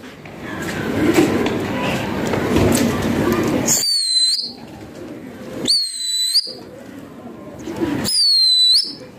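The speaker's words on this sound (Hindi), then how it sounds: "वो एक छत से कबूतर उड़े हैं, देख सकते हैं आप जी।" A flock of pigeons takes off from a rooftop with a rush of fluttering wings, followed by several sharp, rising whistles repeated in short bursts, with voices talking nearby.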